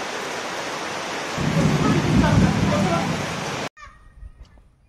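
Heavy rain pours steadily during a storm in the Sundarbans, a dense roaring wash that swells louder partway through, then cuts off abruptly into quieter background sound.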